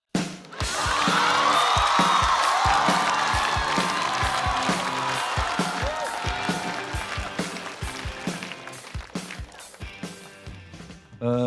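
Studio audience at a Chinese stand-up comedy show applauds and cheers a comedian onto the stage, a loud sustained roar of clapping that thins toward the end.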